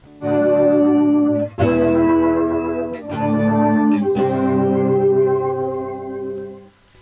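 Sustained organ chords swell in and out with a volume pedal, each rising smoothly to full volume, pausing, then returning with a new chord under a wash of plate reverb.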